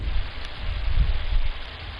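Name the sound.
thunder and rain in the video game Gone Home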